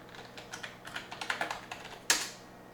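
Fingers typing a password on a computer keyboard: a close run of quick, uneven key clicks, ending in one louder, sharper keystroke.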